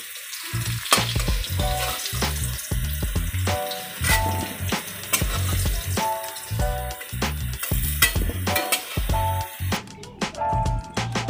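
Potatoes frying in oil, a loud, close, crackling sizzle with frequent knocks and scrapes of a utensil stirring the pieces in the pan, no voices.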